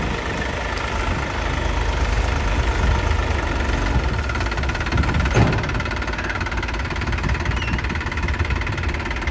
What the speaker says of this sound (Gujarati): આ ટ્રેક્ટર આવે ચાલુ કરે તો તમને બતાવીએ